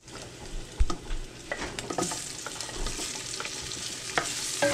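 Onion frying in a pan at home, a close bright sizzle with scraping stirs and occasional clunks of the utensil against the pan, fairly loud with no voices.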